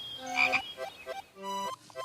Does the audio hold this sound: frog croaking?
yes